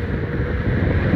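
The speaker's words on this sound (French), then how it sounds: "est-ce que vous entendez le vent?" Wind noise while riding an electric scooter at speed, a loud, steady low roar buffeting the microphone with no break and no voices.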